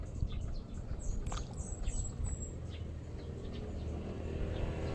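Birds sing in a tree behind a small shop, giving a scatter of quick high chirps and tweets over the first few seconds, thin and somewhat distant above a steady low background hum.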